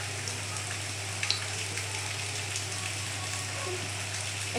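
Pitha cakes frying in hot oil in a home kitchen, a steady close sizzle and crackle with a couple of small pops, continuous and fairly even.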